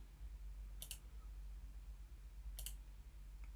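Two sharp, faint mouse clicks on a quiet desk, spaced a couple of seconds apart over a low electrical hum.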